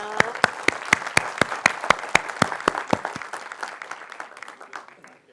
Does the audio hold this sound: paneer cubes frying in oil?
no